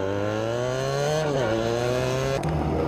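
An F800 motorcycle engine roars in a Brazilian motorcycle video game, a loud, steady drone whose pitch sags around the middle and shifts again near the end, with no talk over it.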